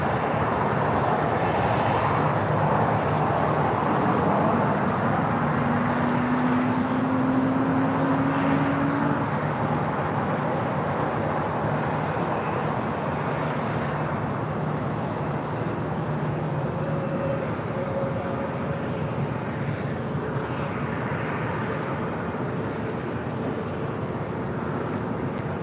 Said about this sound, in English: this is Atlas Air, Flight 4548, coming in from Anchorage